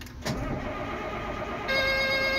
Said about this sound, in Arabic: هنشغل اللودر